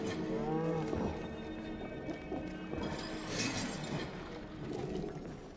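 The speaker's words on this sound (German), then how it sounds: "Okay, eine Kuh." A cow in the video game Atomic Heart gives a drawn-out moo at the start, followed by clattering and crashing game sounds.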